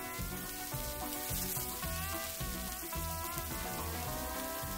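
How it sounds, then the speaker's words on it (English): Onions sizzle in oil on a flat griddle for a smash burger taco, a steady close crackling fry heard alone with no talk. "onions on the oil"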